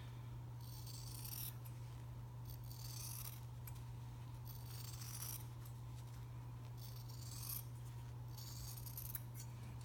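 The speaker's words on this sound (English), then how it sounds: "Definitely use good scissors here." Fabric scissors snip around a leaf shape cut from scrap fabric, a series of soft, close crunching cuts repeating every second or two over a steady low hum.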